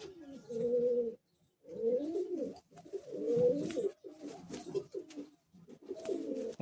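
Madras pigeons coo in a loft in repeated throaty, rolling bursts separated by short pauses, close and fairly loud with no voices over them.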